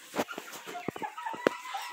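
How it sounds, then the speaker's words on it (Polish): Chickens eating watermelon on a farm cluck in short, irregular bursts, close and fairly clear, with one louder squawk partway through. "Tutaj mamy kury."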